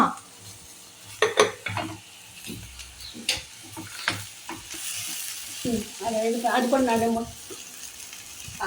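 Mashed plantain frying and being stirred in a pan for an egg and plantain poriyal: intermittent scrapes, clinks of a utensil on metal and a soft sizzle, with a voice speaking briefly.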